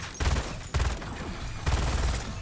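Rapid automatic gunfire from a weapon fitted with a prestige attachment in Black Ops 7 Zombies, three loud sustained bursts of very fast shots in quick succession with game background noise between.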